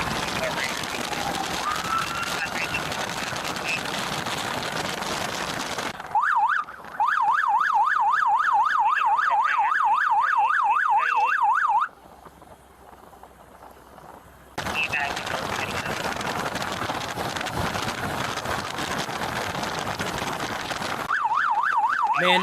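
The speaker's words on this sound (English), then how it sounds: "A motorcycle officer escorts the ambulance to the nearest hospital." An ambulance siren on an escorted run to a hospital, with a motorcycle police officer alongside: a steady rapid wail rises clearly for several seconds mid-stretch, set between long passages of dense, broad noise.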